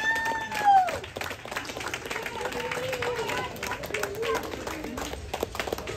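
At a Special Olympics bowling regional competition, a crowd claps and cheers for an athlete carrying the torch, a brief loud burst at the start settling into steady applause, with some voices in the mix.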